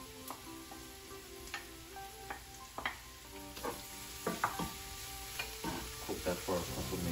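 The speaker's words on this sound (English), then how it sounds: "Fry this down for a couple of seconds." Food frying in a pan before red and green peppers are added, a quiet steady sizzle with intermittent clicks and scrapes of stirring, no voices.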